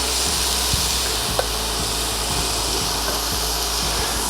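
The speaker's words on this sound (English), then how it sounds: "We're going to start off by frying up our onions." Onions frying in olive oil in a saucepan give a steady, soft sizzle with occasional light stirring scrapes and clicks, close by and without talk.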